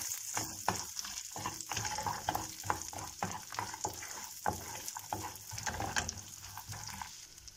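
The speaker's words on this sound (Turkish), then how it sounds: "50 gram kadar ceviz ilave ediyorum. Şöyle cevizi 1 dakika falan çeviriyorum." Walnuts tossed in butter in a pan give a steady soft sizzle broken by repeated scraping stirs, close but quiet, with no voices.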